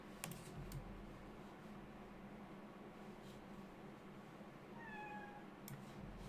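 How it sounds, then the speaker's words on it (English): A cat meows outside a door, one thin, faint rising-and-falling meow near the end, under a steady hiss of background noise with light tapping like keyboard typing. "The cat sounds so cute."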